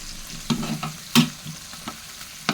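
Thai short mackerel frying in a pan, with a spatula stirring and scraping at irregular intervals over a steady close sizzle, no voices.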